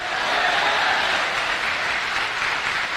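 An audience claps loudly in a sustained, even roar of applause at a talk event, with no voices standing out.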